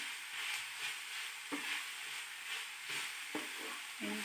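A spoon stirs chicken and vegetables seasoned with black pepper and salt in a frying pan for a lasagna, giving a steady soft sizzle with repeated scraping strokes at close range and no talk.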